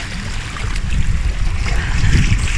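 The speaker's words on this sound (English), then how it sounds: "Come for a little walk by the seaside, right now in kind of a rocky part right by the actual water." Water laps and washes against a rocky seaside shore on a sunny day, a steady close rush with low surging swells and no voices.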